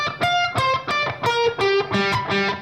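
Electric guitar plays the closing bar of a blues lick with no delay, a quick run of about a dozen distinct picked and bent notes, lightly driven and close, with no talking.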